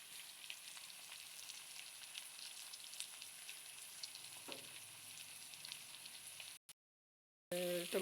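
Onions fry in hot oil with a faint, even sizzle and soft crackling, then a brief dropout to silence before the sound returns near the end.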